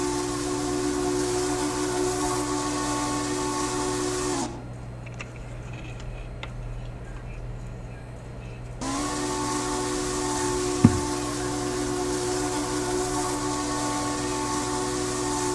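Steam locomotive whistle in a railroad video game, a loud sustained multi-tone blast that cuts off, falls quiet for a few seconds, then sounds again and holds steady to the end.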